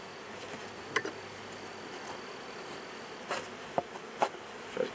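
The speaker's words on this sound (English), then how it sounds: "Bees up here." Honey bees buzz in an open hive during a beekeeper's inspection, a steady faint drone with a few louder close passes of individual bees flying near.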